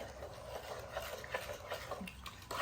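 Sugar and kosher salt stirred together in water in a pot, a soft, steady scraping and swishing close by, quiet and continuous with no talking.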